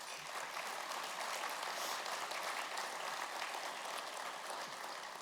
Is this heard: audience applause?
yes